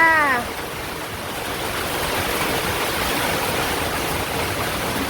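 Heavy rain pours down in a steady, dense roar close by, a brief voice-like call at the very start before the downpour continues unbroken.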